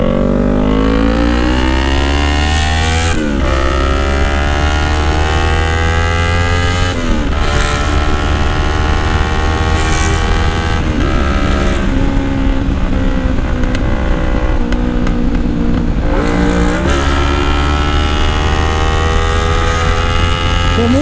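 Kawasaki Z1000 motorcycle with a G-Escape exhaust revs loudly up close, repeatedly climbing and dropping in sharp bursts between a rumbling idle, with pops and crackles between revs.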